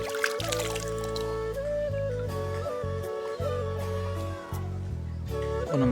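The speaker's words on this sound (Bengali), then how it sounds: "হাতটা ধুয়ে নিই।" Tap water trickles and splashes in uneven bursts as hands are rinsed outdoors on a fishing trip, the flow stopping and starting with soft gurgles, fairly close and moderately loud, with no talking.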